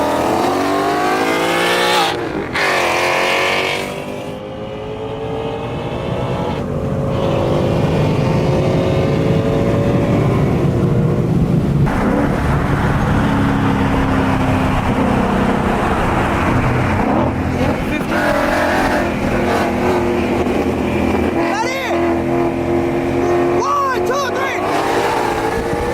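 Roll race between a supercharged 5.0 manual car and a dual-clutch GT500, heard as loud engines accelerating through rising and falling gears with shift breaks, close to the mic, while people talk and shout underneath.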